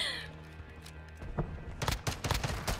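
Automatic light machine gun fire in the Warzone video game, rapid bursts of shots landing in clusters over the second half of the moment, fairly loud against a steady background hum, with a player's voice heard faintly near the start.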